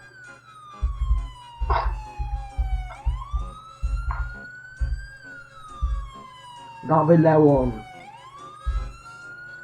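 Police car siren in Farming Simulator 22, a rising and falling electronic wail sweeping through the whole clip, with someone talking loudly in bursts over it.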